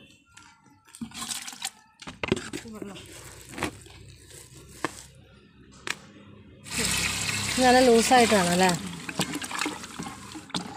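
Cow dung is stirred into water for a kitchen garden mix, making sloshing, splashing and wet churning sounds that swell loudly midway. Brief talk comes before and during the mixing.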